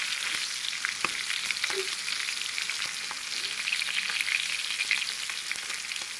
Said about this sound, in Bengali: আর মাছটা একটু ভাজা করতে হবে, ভাজা করলে সবাই পছন্দ করে।